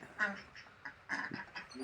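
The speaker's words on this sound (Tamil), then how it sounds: "வாத்துகளே இருங்க கொஞ்ச நேரம் நான் பேசிக்கிறேன்" Ducks quack in a few short, nasal bursts spread over a couple of seconds, fairly close and moderately loud against a quiet background.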